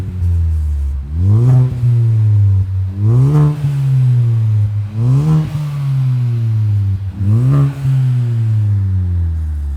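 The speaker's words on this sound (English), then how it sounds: "ready for us to take it outside and give it a few revs." A Ford Focus ST250 fitted with a Gravity Performance catback exhaust, revved outdoors about five times in a row, each rise climbing to a loud rasp then dropping back to a deep idle, with no talking.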